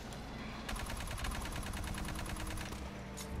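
Rapid automatic gunfire in the shooter Aliens: Fireteam Elite, a steady stream of evenly spaced shots lasting a few seconds at moderate distance over a low game-ambience bed.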